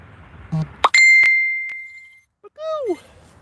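A run of short electronic notification chimes and pings: a low blip, then several bright tones, one ringing out for over a second, followed by a falling chirp, clear and close.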